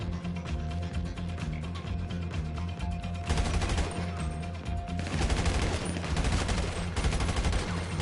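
Automatic gunfire in a GTA game comes in loud, dense bursts, with a pause between two sustained volleys and a low engine-like hum underneath.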